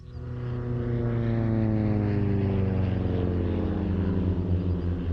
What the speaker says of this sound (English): Although only powered by a small engine, the Twister is a very light aircraft